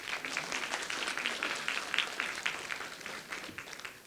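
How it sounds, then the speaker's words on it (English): A crowd applauds steadily, a dense, even patter of many hands clapping that holds for about four seconds without letting up. "can you help me give them a round of applause?"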